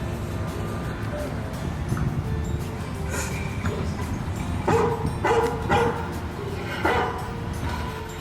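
A recorded Doberman bark is played back outdoors at Beaumont Tower on the Michigan State campus. Several short barks sound in quick succession through the middle of the clip, partly masked by steady, loud ambient rumble and crowd-like background noise.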